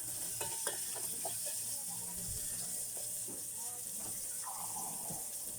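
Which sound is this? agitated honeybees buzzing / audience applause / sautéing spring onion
sautéing spring onion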